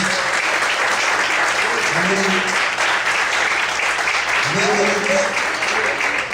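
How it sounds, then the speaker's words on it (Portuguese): Church congregation applauding steadily throughout a worship service, a dense, sustained wash of clapping, with a preacher's voice and short spoken exclamations over it. "Você pode aplaudir o Senhor?"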